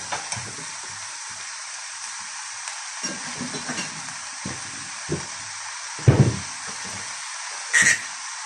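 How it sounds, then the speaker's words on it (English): Chutney ingredients with dark brown sugar are stirred through in a frying pan, a constant soft sizzle and hiss with light intermittent scrapes of the spoon and a couple of louder clatters near the end. "stir those right through"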